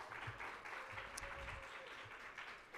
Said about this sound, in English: So another round of applause for Dr.